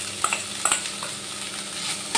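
Drained chhana (fresh cheese curds) is stirred in a kadai over a low gas flame, giving soft scraping and faint sizzling with a few sharper clinks, with nobody talking.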